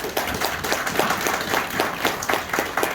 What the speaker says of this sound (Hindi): तो आप सभी लोगों के लिए एक बार जोरदार तालियां हो जाए।